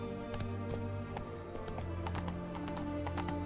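In The Witcher 3, a horse's hooves clip-clop at a trot in a steady rhythm over a constant droning game backdrop, with faint voice sounds underneath.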